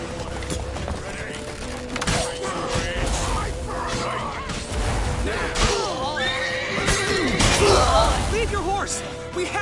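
A horse neighs and whinnies repeatedly amid a chaotic battle scene in The Witcher 3: Wild Hunt, with shouting men, clattering and crashes around it, loud and close throughout.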